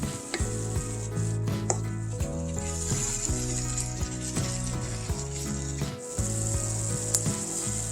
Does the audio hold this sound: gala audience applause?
no